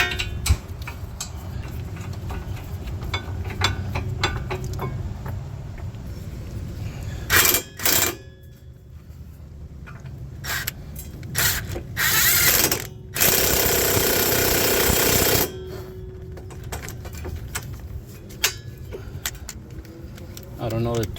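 Impact wrench tightening the front brake caliper bracket bolts on a Honda CR-V, with short loud rattling bursts amid clinks of tools and a steady background hum, and a person talking throughout.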